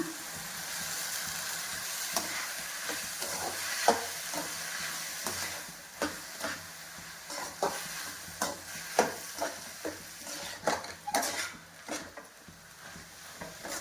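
Washed okra frying in a pan with ginger-garlic paste, a soft continuous sizzle broken by repeated scraping and stirring strokes of a spatula, close and fairly quiet.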